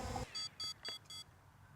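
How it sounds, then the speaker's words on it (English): A drone's low-battery warning gives four short electronic beeps in a steady rhythm, thin and high-pitched, after a brief burst of noise at the start, then quiet. "It starts that beeping, so now I wanna go ahead and bring it back in"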